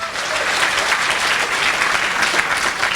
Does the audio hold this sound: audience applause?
yes